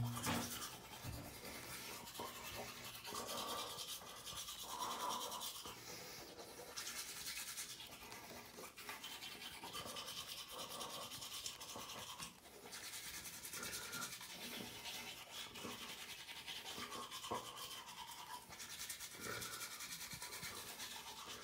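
Toothbrush scrubbing teeth with lemon, a steady close-up brushing and rubbing sound in repeated strokes lasting throughout, no talking.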